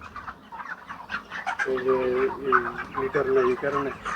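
Broiler chickens on a farm clucking in a short burst of repeated, close clucks and squawks after a quieter opening, with faint chatter in the background.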